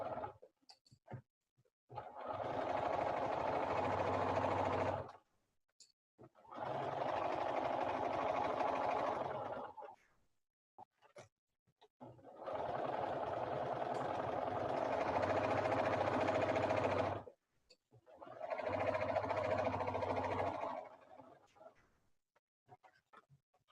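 A sewing machine stitches a scant quarter-inch seam in four long steady bursts of whirring, separated by short pauses with faint clicks, recorded close up.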